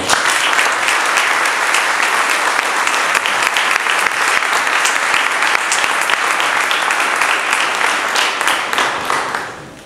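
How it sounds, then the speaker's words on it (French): Sustained, dense applause fills the hall as an audience welcomes the association's president to the stage at a Paris awards ceremony, holding steady and loud before tapering off at the end. "merci d'accueillir notre présidente Maud Kugler"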